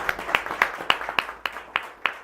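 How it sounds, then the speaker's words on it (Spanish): Sparse applause from a small church audience welcoming newcomers, a few distinct, separated claps landing in a loose rhythm, close and fairly crisp, with no talking over them. "Le damos un aplauso a Néstor, a Belén"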